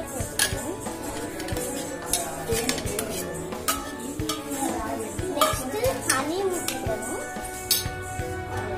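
Bananas go into a bowl for a banana, sugar, honey and coconut dessert, with a busy run of close clinks, knocks and scraping against the bowl and faint tones under it, no speech.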